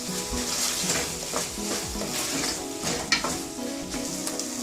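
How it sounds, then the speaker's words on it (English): Boiled black chickpeas being stirred into tomato puree cooking in a pan, a continuous close sizzle broken by repeated scraping and clattering strokes of the spoon against the pan, with no voices. "Now I'm going to add the boiled chana or black chickpeas. I'm gonna mix it very well."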